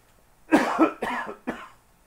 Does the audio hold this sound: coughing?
yes